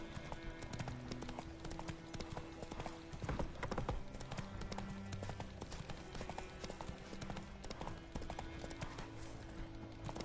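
Horse hooves galloping in The Witcher 3, a steady rapid clip-clop running throughout with game music and ambience underneath, loud and close, with a brief burst of louder activity partway through.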